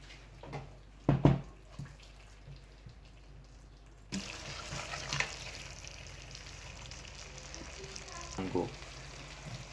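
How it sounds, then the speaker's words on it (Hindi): Cauliflower and meat curry being fried in a pan, a soft sizzle and crackle with a few sharp clanks of a spoon against the pan early on, then a louder steady sizzle, with speech over it. "अब इसको हम थोड़ा भून लेंगे।"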